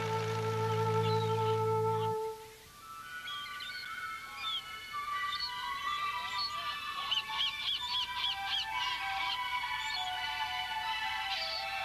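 Many seagulls, puffins and other seabirds call and squawk in a busy chorus at a bird sanctuary on Værø, Norway, sharp overlapping cries rising after a brief low tone fades out.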